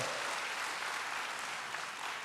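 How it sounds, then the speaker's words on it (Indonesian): A church congregation claps in praise during a sermon, a soft, even wash of applause that sounds distant and fairly faint, with no clear individual claps standing out. "Yang setuju berikan tepuk tangan bagi Tuhan"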